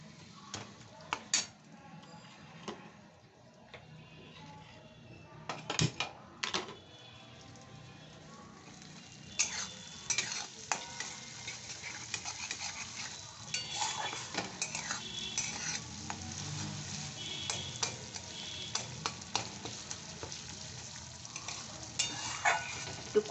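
Fish roe frying in a pan on a stove, crackling and spattering in bursts with scraping stirring and light clinks of a utensil against the pan, fairly quiet and close.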